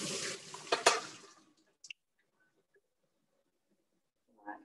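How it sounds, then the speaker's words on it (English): Cold tap water runs briefly over cooked pasta in a Thermomix basket, a short splashing rush that fades within a second or so, followed by a few faint drips and a small clatter at the end. "And then we just run it over with some cold water to stop it cooking"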